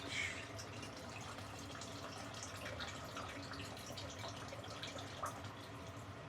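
Tap water runs while raw lamb breast is rinsed to wash off blood, a faint, steady stream splashing in a sink with occasional drips.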